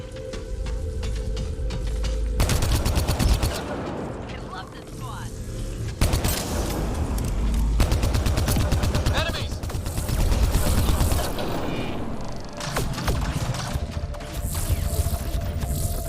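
Rapid gunfire from combat in the sci-fi shooter Mass Effect Andromeda, loud sustained bursts with cuts between segments and mechanical game sounds, while someone talks over it.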